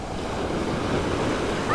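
Ocean surf rolls and breaks steadily on a fishing beach, a continuous loud wash of waves with wind buffeting the microphone throughout.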